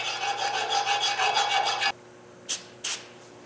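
Rust is rasped out of an axle bushing on a 2009 Ford F750 truck. Quick rhythmic scraping strokes run for about two seconds, then stop, followed by two short separate scrapes.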